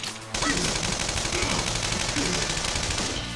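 Sustained rapid automatic gunfire from the new gunner in the Persona 5 battle, loud and continuous for about three seconds after a brief quiet start.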